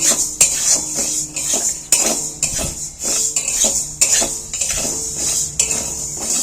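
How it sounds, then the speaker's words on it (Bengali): Sago pearls stirred in a kadai to warm them, a utensil scraping and clinking against the pan in repeated strokes, close and fairly loud with no talking. "আমি একটু নাড়াচাড়া করে কড়াতে একটু গরম করে নিয়ে"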